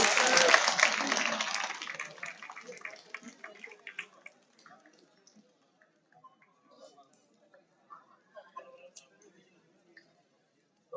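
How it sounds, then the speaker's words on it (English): Applause at a 2022 college graduation ceremony, a loud burst of clapping from the audience that fades over about two seconds and leaves scattered claps and room noise. "Please give a few round of applause"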